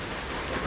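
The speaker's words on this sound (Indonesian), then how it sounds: "Hujan hari ni, pagi ni." Steady morning rain falling in Thailand, a dense, continuous hiss of drops on surfaces with no breaks, fairly close and alone without voices.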